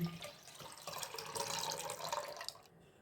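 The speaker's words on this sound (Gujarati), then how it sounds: "એક ગ્લાસ જેટલું પાણી નાખી અને ખટાશનો ભાગ આપણે આમાં કાઢી લઈએ" Water is poured into a container of churned butter, making a steady, close splashing gurgle that tapers off at the end.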